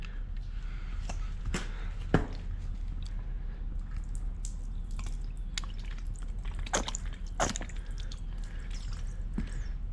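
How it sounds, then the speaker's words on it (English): Water spritzed onto a ceramic-coated car panel, beading and running off the paint, with soft steady hiss and scattered sharp spray bursts and drips, no talking. "You saw we just sprayed water on it, and you see the beads just flowing straight down."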